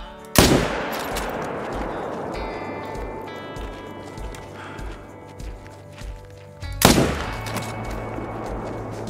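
A rifle fires two loud, sharp shots at a red deer in the hunting game Call of the Wild, one near the start and one about six seconds later, each with a ringing tail over a steady game ambience.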